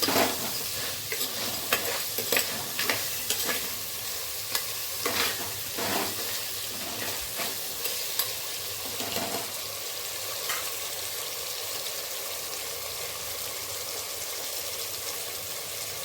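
Green chilies frying in a pan for crab curry, a steady soft sizzle with scattered crackles and brief stirring scrapes in the first half, settling into an even hiss.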